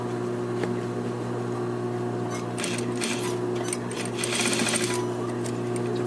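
A sewing machine hums steadily close by as it stitches a suit collar and lapel, its motor drone constant while a faster rattling burst of needle strokes rises midway and then eases.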